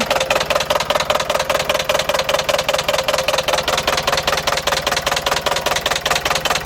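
An old Iveco truck's diesel engine idles roughly and loudly with a steady, uneven knocking pulse, no voices, running continuously throughout.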